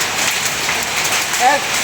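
Rain falls steadily in strong wind over Lahore rooftops during a storm, a dense broadband wash with no break and a faint tonal whine near the end.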